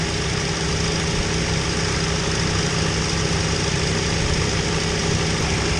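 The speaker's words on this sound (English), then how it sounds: "Cooling fan is on." A 2.4L Chevy HHR engine idles with its cooling fan running, a steady, loud, even drone with a constant low hum and broadband whir, no voices.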